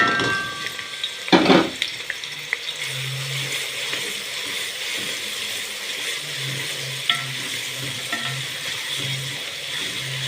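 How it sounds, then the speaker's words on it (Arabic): Onions frying in oil in a pan for stuffed mombar, a continuous moderate sizzle with occasional stirring scrapes, one sharp clatter near the start and a faint intermittent hum behind it. "انا حطيت الزيت. تمام. هبدأ احط البصل."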